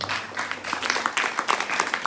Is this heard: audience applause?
yes